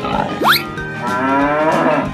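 A cow gives one loud, close moo that starts with a rising cry and settles into a long steady low call, heard alone without speech.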